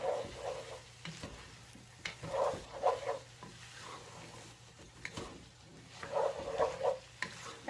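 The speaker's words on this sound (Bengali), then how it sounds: "আরো 2 থেকে 3 মিনিটের মতো ভালোভাবে কষিয়ে নেব আমি।" Rice stirred and fried in a pan over a raised flame, with spatula scrapes and stirs in irregular bursts over a soft continuous sizzle, close and moderately loud, no voices.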